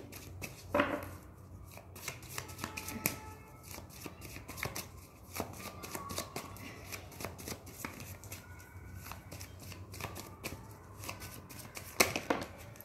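Tarot cards being shuffled and drawn by hand, a close, quiet run of crisp riffling flicks and papery slaps repeating irregularly throughout, with a couple of sharper snaps near the start and end.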